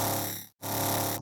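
Two heavy, dense dubstep growl bass hits land in a steady half-note pattern for a tearout drop. Each loud, sustained, distorted note is cut off by a short gap before the next.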